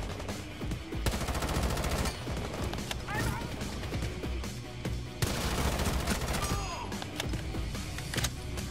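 Automatic fire from an M60 machine gun in the tactical shooter Rainbow Six Siege comes in rapid, sharp, loud bursts broken by short pauses. Other gunshots are mixed in, and players keep talking excitedly over the shooting.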